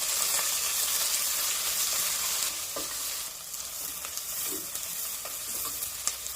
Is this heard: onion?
yes